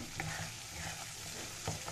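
Tomato and chilli masala frying in a pan for a rohu fish curry, stirred; a steady close sizzle with a couple of short scraping strokes of the spatula.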